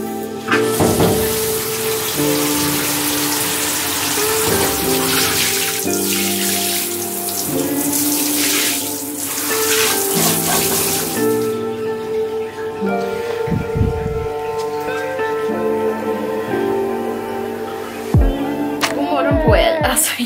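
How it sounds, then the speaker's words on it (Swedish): Water runs steadily from a tap into a child's bath, a loud broadband rush for about ten seconds before easing off, with voices and other household sounds layered over it. "Som ni såg nu så har Noah fått ett bad"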